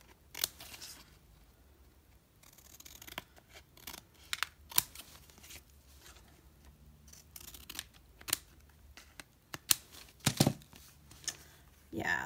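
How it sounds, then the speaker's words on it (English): Scissors snip around a paper planner sticker in short bursts of crisp close cuts, irregularly spaced with pauses between, while someone talks at times. "So I'm going to trim around."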